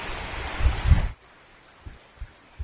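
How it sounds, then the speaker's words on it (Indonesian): Heavy rain pours by a river during fishing, a dense, loud hiss that cuts off abruptly partway through, leaving near-silence broken by a few low thumps. "Hujan guys, kita kehujanan,"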